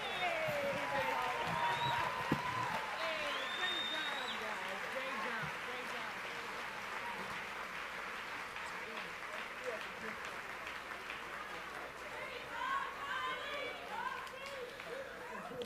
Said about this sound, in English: Ladies and gentlemen, if we can give both debate teams another round of applause